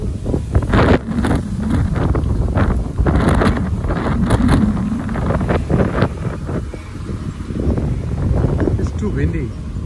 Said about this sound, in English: Look, it's so much windy.